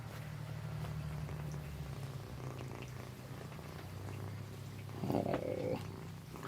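Fluffy kittens purring softly up close, a low steady rumbling purr that rises and falls, with a small rustle or mew-like sound near the end in an otherwise quiet room.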